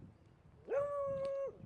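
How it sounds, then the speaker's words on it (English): A dog lets out one drawn-out whining howl lasting under a second, fairly close and steady in pitch, after a moment of quiet room noise. "This dog don't understand that I'm recording, man."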